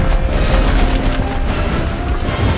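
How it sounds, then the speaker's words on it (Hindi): A blast from a fired shell blows open a prison gate in a movie action scene, heard as a dense, sustained low boom and rumble with mechanical clanking and debris, loud throughout with no speech. "एक गोला दागकर उसने गेट को उड़ा दिया"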